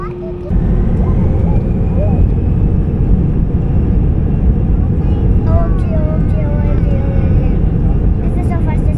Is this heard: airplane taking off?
yes